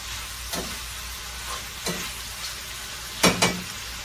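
Kielbasa, potatoes and sauerkraut frying in a full skillet, a steady low sizzle with a few soft stirring scrapes and taps breaking through at intervals.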